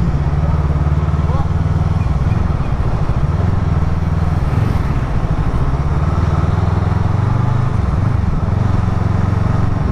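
A Voge 500DS motorcycle engine running loud and close, a continuous throbbing rumble with a couple of brief dips and swells in revs, steady throughout.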